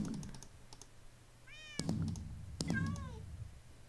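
Two rising cat meows from a Minecraft taunt ring out clearly, one after the other, over steady computer keyboard typing and clicking.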